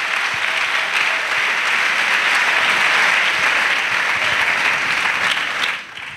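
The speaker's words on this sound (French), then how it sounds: "Let's clap for Jesus Christ." A church congregation claps for Jesus Christ in sustained, dense applause that fills the room and then tapers off at the end.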